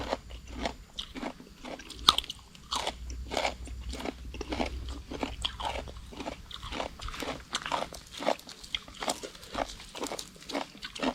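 Crunchy bites and chewing of spicy pounded Isan rice noodle salad (tam khao pun), a rhythmic run of close, crisp crunches repeating steadily throughout with no talk.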